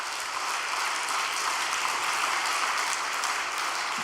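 Applause from an audience at a church vigil gathering, a dense, steady wash of clapping that holds at an even level for the whole stretch with no voices.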